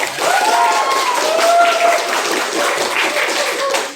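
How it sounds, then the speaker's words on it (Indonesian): A classroom of students claps their hands together, a loud, dense burst of applause that holds steady for several seconds, with voices and faint laughter mixed in. "Tepuk tangan."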